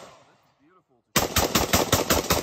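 Rapid burst of fully automatic fire from a heavy CETME L rifle erupts after a second of quiet, loud and close with evenly spaced shots running to the end.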